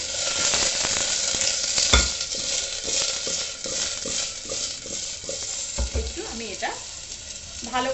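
Potatoes with a little turmeric powder frying in a pot for kacchi biryani, a steady close sizzle with a utensil stirring and scraping at intervals and a couple of louder knocks against the pot.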